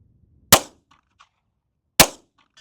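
Two sharp CZ 75 TS2 pistol shots fired at a 100-yard target, loud close cracks about a second and a half apart, each followed by faint distant ringing of steel.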